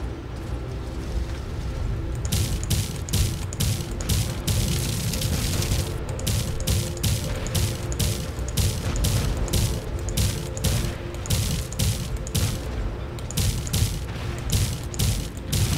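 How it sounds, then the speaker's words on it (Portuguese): Rapid bursts of synthetic minigun energy shots from a robot in War Robots fire in quick repeated volleys over a constant low mechanical drone, loud and close. "Mini tiros de energias."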